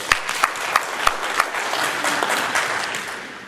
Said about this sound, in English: Clap it up for Ezra